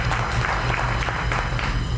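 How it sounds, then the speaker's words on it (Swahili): A studio audience at an interview show applauds, a dense, continuous wash of clapping that holds at an even level throughout, with no talking over it. "Simpigie tonight makofi"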